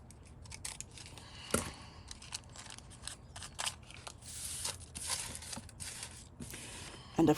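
Scissors snip through a paper sewing pattern along the neckline seam allowance, a close series of sharp, irregular cuts with papery rustling between them.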